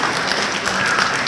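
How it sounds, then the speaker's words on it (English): An audience at a school drama club winter showcase applauds a volunteer, dense, even clapping filling the room at fairly loud level without a break. "who deserves a big round of applause"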